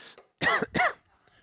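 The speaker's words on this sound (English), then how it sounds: "I'm going to steal some water before I start coughing on you" Two quick, close throat-clearing coughs in a row, loud against an otherwise quiet background.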